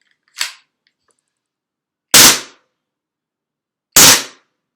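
Three sharp, loud shots from an airsoft S17 combat replica pistol by Stark Arms firing in burst mode, each crack standing alone with a quick decay and nearly two seconds of silence between them, the first noticeably quieter.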